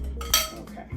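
A utensil scrapes and clinks against a bowl while mixing and chopping a lemon dump cake crumble mixture, a short close burst of scraping with one brighter clink.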